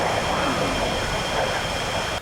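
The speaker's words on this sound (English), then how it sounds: "Russian cargo plane." A Russian cargo plane flies past in a video game benchmark, its engines giving a loud, steady broadband roar that holds for a couple of seconds before cutting off abruptly at the end.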